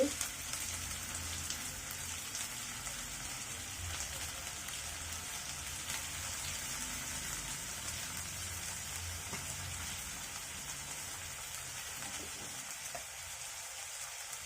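Cleaned dried shrimp frying in hot oil, a soft continuous sizzle with fine crackling that holds steady and fairly quiet throughout, easing off near the end.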